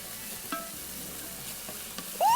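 Chopped chili peppers are stirred into a pot of spicy vodka rigatoni sauce: a short bout of soft frying sizzle with a few spoon scrapes, ending in a sudden louder swish.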